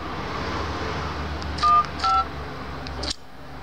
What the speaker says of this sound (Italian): Prendo lo squillo al numero indicato.